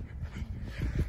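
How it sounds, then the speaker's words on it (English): A dog whimpering and panting up close, soft breathy low pulses that grow heavier toward the end, with no talk over it. "I like your dog."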